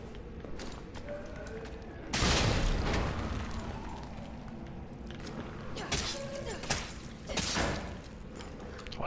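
A grenade blast from the Resident Evil 3 video game booms loudly among scattered gunfire and in-game crashes, with a strong burst near the start and further thuds and pops after.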